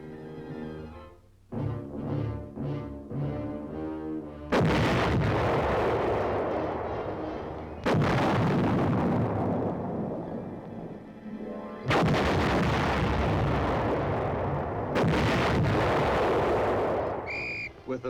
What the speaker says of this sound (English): the men of the defending forces bring their own 280-millimeter gun into play